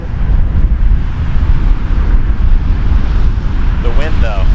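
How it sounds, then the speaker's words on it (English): Strong wind at Toronto Pearson Airport, a heavy blustery rumble buffeting the microphone without letup, with a brief faint voice near the end. "It literally is the wind."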